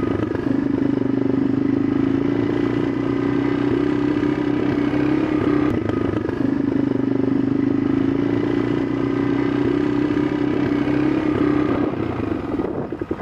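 A 400cc motorcycle riding up Cerro Ancon, its engine droning steadily and close for the whole stretch with a constant low hum and some rattling, no voices.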